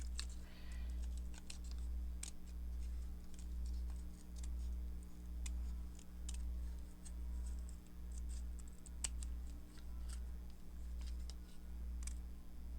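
Scissors snipping around a paper flower cutout for a junk journal cluster, a run of small crisp clicks and snips scattered close up over a steady low hum.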